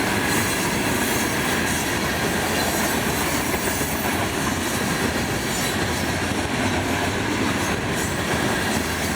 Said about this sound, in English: Yeah, the mega rock train.